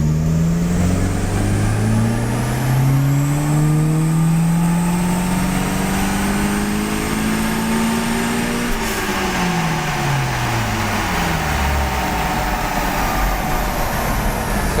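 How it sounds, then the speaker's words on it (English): A car engine fitted with a turbocharger and a Turbosmart e-Boost 2 boost controller revs up steadily, its pitch climbing with a rising turbo whistle, then drops back as the throttle is released. Loud and close, with no talking. "we can clearly hear that the response of the turbocharger has changed and it ramps up a lot quicker"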